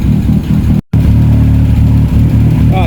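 An abandoned road rally car's engine, refitted with a changed throttle body and improved fuel delivery, idles while warming up: a steady, loud, close low rumble that cuts out for an instant and then carries on.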